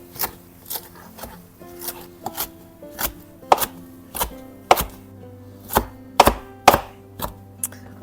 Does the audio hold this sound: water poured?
no